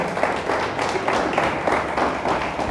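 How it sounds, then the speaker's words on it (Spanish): A church congregation breaks into a hearty round of applause during a sermon, dense clapping from many hands filling the room steadily for several seconds with no speech over it. "Le damos un fuerte aplauso a Dios por eso"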